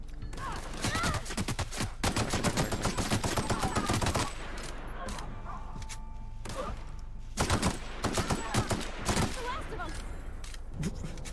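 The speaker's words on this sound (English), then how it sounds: "I managed to shoot that guy into just a torso." Rapid bursts of gunfire from The Outer Worlds video game, dense volleys clustered at the start and again in the middle, loud and close, with a voice talking in places between the shots.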